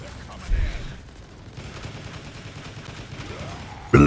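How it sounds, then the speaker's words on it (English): A baby cannon weapon fires in the Transformers: War For Cybertron video game, with a dull low boom early on and a louder sudden blast at the end over a rumbling battle background. "Sounds like somebody actually fired a baby cannon over there."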